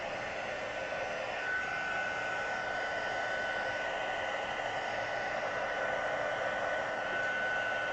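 Steady whirring blast of a heat tool drying a handmade card, a continuous even airflow hum with a faint high tone running unbroken throughout.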